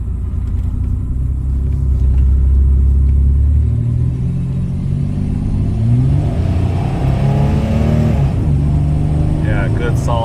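A 1994 Chevy S10 pickup with a V6 roars under hard acceleration, engine pitch climbing steadily then dropping through a gear shift and rising again, loud and close from inside the cab, with someone talking over it.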